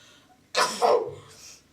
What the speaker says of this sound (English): stop sneezing. It sounds awful